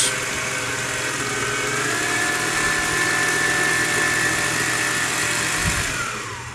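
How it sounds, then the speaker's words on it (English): A blender whirring as it purees pumpkin for a turkey dinner, a steady high motor whine that holds evenly for several seconds before winding down at the end, close and loud. "We're gonna blend that for a couple minutes."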